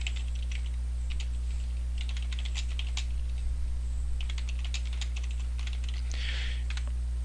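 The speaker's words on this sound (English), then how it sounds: "I'm gonna type it out." Typing on a computer keyboard in a room, steady bursts of close key clicks running throughout over a constant low electrical hum, with no voices.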